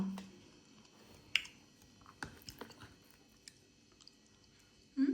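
Close, quiet chewing of yogurt with Oreo crackers, soft wet crunches and scattered clicks spread over several seconds with no talking.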